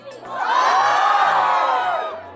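A large crowd at a 2022 event in Theog roars with loud shouts and cheers that swell and hold for a couple of seconds before easing off.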